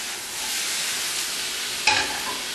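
Flank steak frying in a pan: a close, steady sizzle and hiss, with a brief sharp clatter near the end like a scrape or stir.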